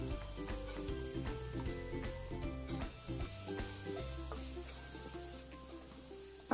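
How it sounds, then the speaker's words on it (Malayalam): Tomato and onion sauté in a pan for mushroom masala curry, a steady low sizzle broken by repeated scraping stirs throughout, close and moderately quiet. "ഈ തക്കാളിയും സവാള എല്ലാം കൂടെ നല്ലപോലെ വഴറ്റിയെടുക്കണം ഈ കറിക്ക്"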